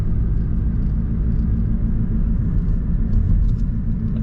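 Steady low rumble from inside a car driving through downtown Royal Oak, Michigan, a Detroit suburb with bars and restaurants; the road and engine drone holds constant with no talking.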